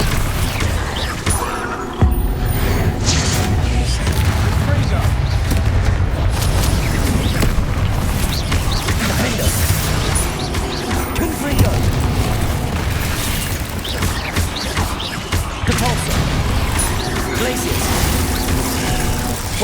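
Confringo fire-spell explosions in the video game Hogwarts Legacy land as dense, loud booms and bursts, layered over continuous combat noise.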